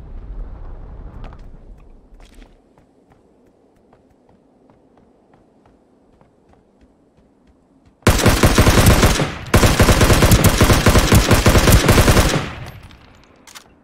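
Loud bursts of automatic gunfire in the shooter Ring of Elysium, two sustained volleys following a quiet stretch of faint footsteps and soft ambience.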